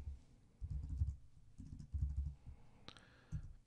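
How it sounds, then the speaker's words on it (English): Keystrokes on a computer keyboard while a simple if-else statement is entered during a Python programming lesson: soft, quiet clusters of taps in short bursts with brief pauses between them and one sharper click near the end, with no voices. "let's type a simple if-else statement"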